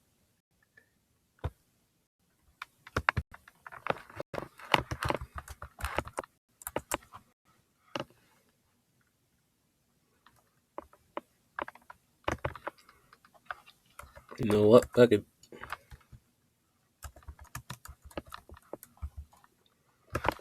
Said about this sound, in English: You gotta see what I'm typing.